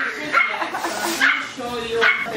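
A new puppy gives short yips and barks in three quick bursts, close by, among people talking.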